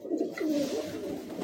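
Male Madrasi high-flying pigeons kept for sale at a loft in Bagnan, Howrah, give a close, clear rolling coo that swells and dips, with softer cooing continuing behind it.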